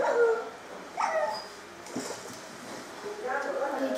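A dog whimpers in the Minecraft video game with a few short high whines and yips, while people talk over the sound throughout.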